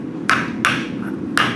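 Three sharp, ringing hammer blows on a copper ladle being forged with a lighter hammer over cast iron swage blocks, evenly spaced with a brief metallic ring after each strike.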